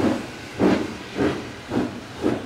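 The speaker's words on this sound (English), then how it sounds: "Catch a steam train here" Steam hisses in regular bursts, four or five surges about every half second, like a locomotive exhausting steam close by.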